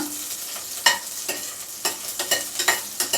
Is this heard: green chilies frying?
yes